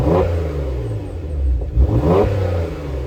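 A 2018 Porsche Macan GTS engine revs up close, loud and throaty, with its pitch rising, dipping briefly and then swelling again over about three seconds.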